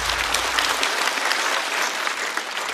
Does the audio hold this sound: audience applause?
yes